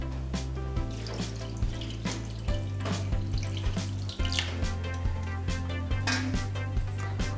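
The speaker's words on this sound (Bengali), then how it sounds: "জল দিলাম।" Water pours into a bowl of washed chana dal, a splashing, running stream heard over steady background music with low droning tones.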